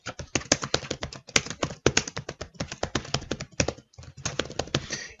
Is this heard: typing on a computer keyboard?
yes